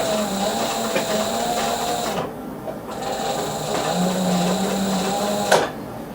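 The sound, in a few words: sewing machine stitching through handbag material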